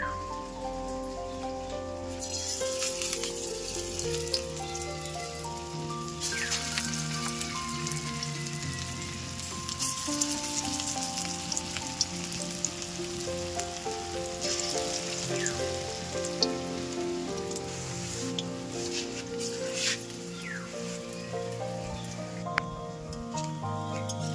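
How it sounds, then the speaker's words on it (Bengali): Pumpkin fritters (kumror bora) deep-frying in hot oil give a steady, dense crackling sizzle that runs unbroken from start to finish, close and even in loudness, with no one talking. "তেল গরম হয়ে গেছে, এবার আমি বড়াগুলো ভেজে নেব।"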